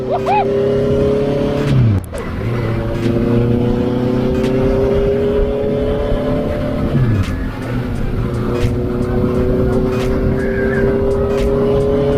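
Honda CB650F motorcycle ridden on city roads, its engine droning loudly and steadily with two clear gear changes where the pitch drops and climbs again, plus wind noise throughout.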